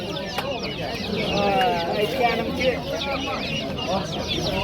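Chickens cluck and chatter at a bustling poultry market in Namangan, a dense, continuous flock sound close by, with a vendor talking over it.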